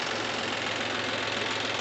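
A John Deere tractor's diesel engine runs steadily at idle after starting, a constant rumbling drone with a rough, knocking texture and no voices; the tractor has an overheating problem.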